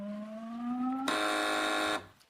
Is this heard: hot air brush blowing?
no